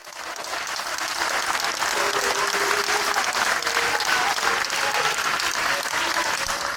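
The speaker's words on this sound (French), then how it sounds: "Vous pouvez les applaudir." A crowd at a mayor's New Year's address in Saint-Chamas applauds the municipal team, building quickly into dense, sustained clapping with a few faint voices mixed in.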